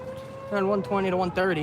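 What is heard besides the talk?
railway bridge alarm sounding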